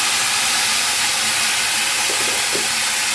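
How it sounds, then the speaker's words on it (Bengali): Hot water pours into a pan of rohu fish curry with tomatoes and turmeric, giving a steady, loud, close hiss and sizzle that holds evenly throughout with no talk. "এইবার আমি গরম জল দিয়ে দেব।"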